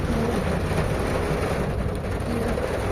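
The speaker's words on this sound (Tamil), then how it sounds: "சடனாக மழை வர ஆரம்பிச்சிருச்சு" Sudden rain falling outdoors during a family outing, a steady dense hiss with a low rumbling wash underneath, constant and fairly loud throughout with no voices.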